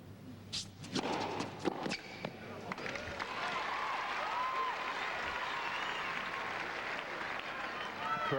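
Crowd applause at a 1990 Sydney tennis semifinal between Edberg and Lendl, sustained and fairly loud after a few sharp opening claps, with commentary talk over it.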